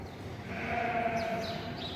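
A single drawn-out sheep bleat, moderately near, wavering over a steady barn background during lambing season.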